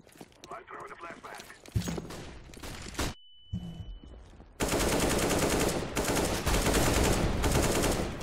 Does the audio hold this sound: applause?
no